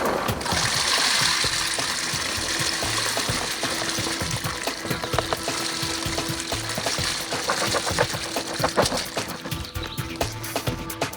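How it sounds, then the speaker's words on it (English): Wild blueberries pour into a bucket of water, a close, continuous splashing and rattling gush that keeps churning for several seconds without talk. "Now we're going to pour the blueberries into the water."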